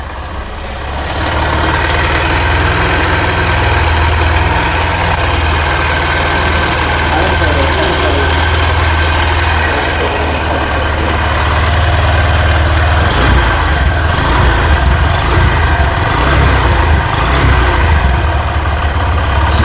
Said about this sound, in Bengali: এই ইঞ্জিনের সাউন্ডটা দেখে নাও